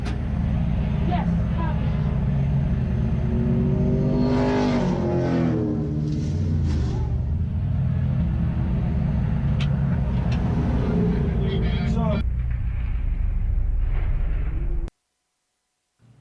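Race car engines roar continuously with rising and falling pitch as cars pass, loud and close, before cutting off abruptly near the end.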